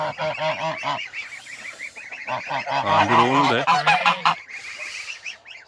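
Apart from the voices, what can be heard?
African geese honking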